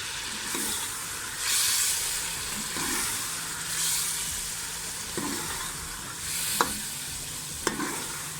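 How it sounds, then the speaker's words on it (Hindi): Onion and ginger-garlic paste sizzle steadily in a frying pan for a chicken gizzard and liver dish, with several scraping stir strokes and a couple of sharp utensil clicks near the end, heard close with no talk. "प्याज और अदरक लहसुन का पेस्ट डालेंगे। अब इसको अच्छी तरीके से कर देंगे मिक्स।"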